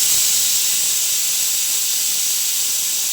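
Steady, loud hiss of steam escaping under pressure from a pressure cooker cooking rice, continuous and unbroken throughout with no voices.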